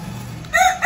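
A rooster crows near a pigeon cage at a small backyard mini zoo, a short harmonic call rising over faint background noise in the final half second.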